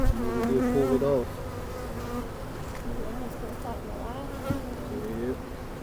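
Honey bees buzzing densely around an opened hive in winter, a steady close swarm drone with individual bees passing nearby and faint rustling underneath.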